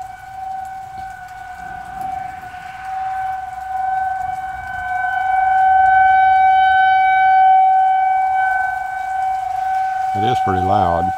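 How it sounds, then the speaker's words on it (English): A loud tornado warning siren mounted beside a house sounds continuously, its steady wailing tones swelling and holding at high volume with faint background noise beneath. "I bet that tornado siren that's next to those people's house is really loud."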